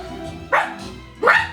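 A person imitates a dog during a tabletop role-playing session, giving two short, sharp bark-like yelps about three quarters of a second apart, near and loud over a low room hum.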